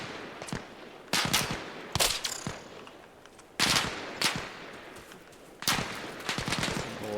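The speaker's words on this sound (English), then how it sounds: "I'm trying to speak over the gunshots" Rapid bursts of gunfire in the military shooter Arma Reforger, loud cracks in uneven clusters with echoing tails and brief gaps between volleys, no talking.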